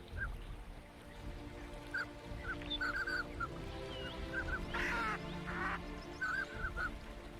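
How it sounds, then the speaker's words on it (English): Mandarin duck calls out in a Siberian boreal forest setting, short repeated nasal calls scattered over steady background noise, with a louder burst of calling midway. "the mandarin duck now forages without worries"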